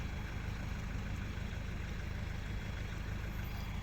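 A farm tractor engine runs steadily under heavy load while pulling a vehicle stuck deep in soft mud, a continuous low, rumbling drone close by with no voices.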